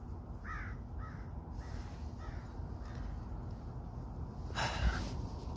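A crow gives a few faint, distant caws early on, half buried in steady outdoor rumble and hiss in Ottawa's Alta Vista area, followed by a sharper burst near the end.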